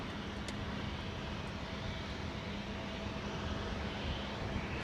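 A Falcon jet aircraft flies past at the Farnborough airshow, a steady broadband engine roar with a faint hum, distant and continuous throughout.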